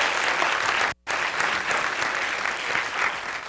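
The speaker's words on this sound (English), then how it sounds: "put your hands together and clap your hands just for a minute." A church congregation claps together in a sustained, fairly loud burst of applause, with one brief drop to silence near the start before the clapping carries on steadily.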